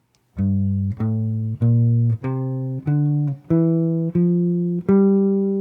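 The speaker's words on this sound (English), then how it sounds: "let's see what this Dorian scale sounds like now." Eight plucked jazz guitar notes of a Dorian scale step upward one at a time in an even rhythm, each ringing clearly before the next, with no voices.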